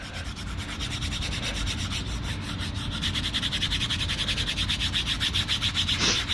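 Rhythmic rubbing strokes as a graphic is burnished firmly onto a mold surface, a close, continuous scratchy friction that settles into a quick regular back-and-forth pattern, with no voices.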